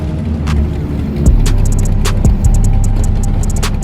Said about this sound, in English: This is Herb's El Camino.